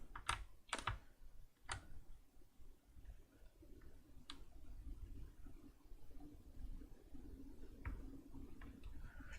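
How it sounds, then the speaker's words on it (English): Mechanical keyboard keys clack in quick irregular bursts, with some sharper isolated taps, quiet and close with no speech. "let me know if the mechanical keyboard is too distracting"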